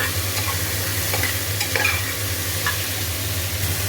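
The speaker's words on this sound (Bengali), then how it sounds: "টমেটো দিয়ে দিয়েছি, আদা বাটাও দিয়ে দিয়েছি, ভালো করে এবার নেড়ে নেবো" Tomatoes and ginger paste are stirred in a frying pan, a continuous sizzle of frying carrying a spoon's scraping strokes close up, loud and steady with no talking.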